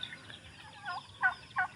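Turkeys gobbling after feeding, a few short bursts of calls close by, rising toward the end over quiet background.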